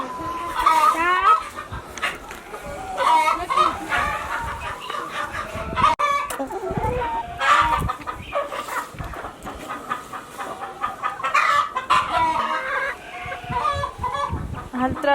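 Farmyard chickens on a countryside visit: a rooster crows and hens cluck repeatedly, fairly close and continuous, with dog barks here and there and people talking throughout.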